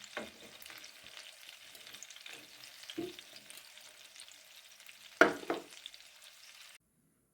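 Pumpkin cutlets fry in a pan with a steady soft sizzle, broken by a few nearby clatters and scrapes, one sharp knock near the end, then a sudden cutoff to silence.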